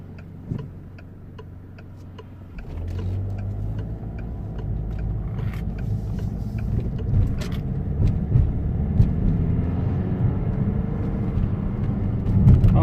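A Peugeot 508 2.2 HDI with a no-power, under-boost, sluggish fault pulls away and drives, a low engine rumble rising and holding steady under a faint ticking, heard from inside the car.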